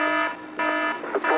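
The Apollo 11 lunar module computer alarm sounds as a loud, steady electronic tone during the landing, with brief shifts in level.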